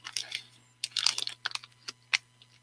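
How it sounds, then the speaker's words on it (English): Crinkly foil paper wrapper of a snack bar crackles and rustles in close, irregular bursts, with sharp crisp crinkles scattered across the moment. "It's got that crinkly foil paper on the inside, which I hate that sound"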